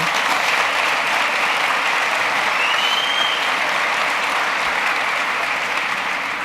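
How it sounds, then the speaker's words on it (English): An audience at a realtor association award ceremony claps in steady, sustained applause, a dense even patter filling the room throughout, with a faint whistle partway through and no speech. "you can clap if you want to."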